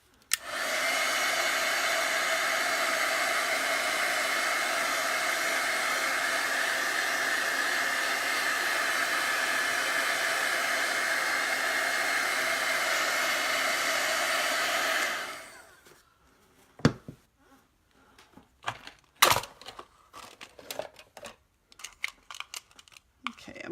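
Hair dryer blowing on chalk paste on a wooden sign, a steady loud whooshing drone for about fifteen seconds before cutting off, followed by scattered small taps and clicks.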